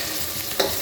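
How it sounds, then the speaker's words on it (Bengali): A spoon stirs chicken curry in a hot pan, giving a brief, faint sizzling scrape with one sharper clink near the end of the short moment. "আবার পেঁচিয়ে দিচ্ছি।"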